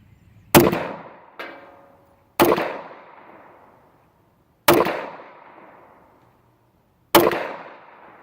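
An old Walther P38 pistol firing, four sharp loud outdoor shots spaced a couple of seconds apart, each with a ringing echo decaying after it.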